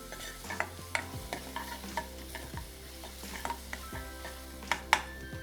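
Chopped garlic and cumin seeds sautéing gently in a pan, a quiet low sizzle broken by a few sharp utensil taps and scrapes against the pan, no talking.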